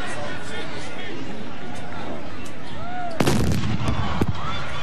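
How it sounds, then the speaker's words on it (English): A cannon booms once at a college football game between Kentucky State and Albany State, a sudden loud blast rising out of steady crowd noise and stadium chatter, with a second smaller report shortly after. "the cannon went off prematurely"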